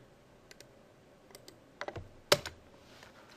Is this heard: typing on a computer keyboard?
yes